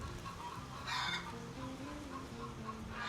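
Backyard hens cluck and chatter in and around their coop, several birds calling in short overlapping bursts at a moderate distance, with no one speaking.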